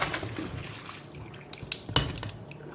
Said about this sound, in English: Then just pour it into my sieve.